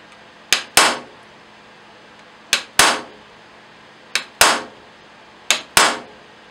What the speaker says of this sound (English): I took a little small hammer, and I would go along the outside of this little silhouette, and I'd punch little holes